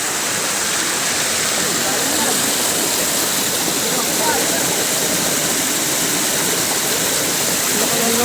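A forest waterfall pours in a dense, steady roar of rushing water, loud and unbroken, with no pauses.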